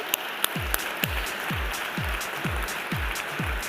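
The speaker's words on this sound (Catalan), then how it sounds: "Un aplaudiment, l'acompanyem" Award-ceremony audience applauding on stage call-up, a steady wash of clapping running under a thumping bass beat that pulses about twice a second.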